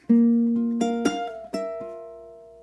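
Ukulele strings 1 to 3 plucked one after another with a slide, as in a song's chord pattern. A few crisp close plucks ring out, overlap and slowly fade, with no talking.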